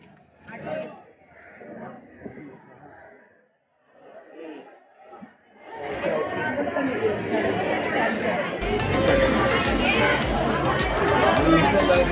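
Crowd chatter at the Malad wholesale fish market, starting with scattered close voices and swelling into a dense, loud babble of many people talking at once.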